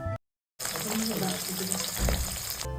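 Lote and pabda fish frying in a kitchen pan, a steady close sizzle with crackling oil after a brief silent gap, swelling louder near the end.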